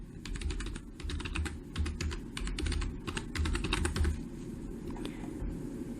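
Rapid bursts of keystrokes on a computer keyboard as a new password is entered, close and clicky, arriving in short irregular runs with small pauses between them.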